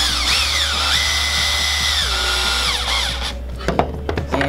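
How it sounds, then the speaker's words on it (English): Power drill driving M6 hex screws during an RC Rustler build, a loud whirring motor that rises and falls in pitch through several short runs, ending with clicks and handling knocks. "And this process is a lot quicker with the drill."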